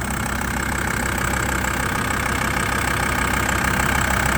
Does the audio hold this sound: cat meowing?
no